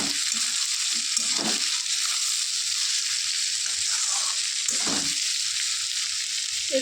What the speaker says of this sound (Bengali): আলুগুলো ভালোভাবে ভাজা হয়ে গেছে, এর মধ্যে দিয়ে দেবো নুন আর হলুদ দিয়ে এটাকে ভালোভাবে খুন্তি দিয়ে